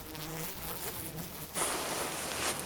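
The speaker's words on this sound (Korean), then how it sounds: "겨울에도 꿀벌은 잠들지 않습니다. 몸을 맞대고 날개 근육을 움직여 열을 내서 벌집 안의 기온을 일정하게 유지합니다." Honeybees clustered in a winter hive, vibrating their wing muscles to produce heat, give a steady close insect hum that stays continuous throughout.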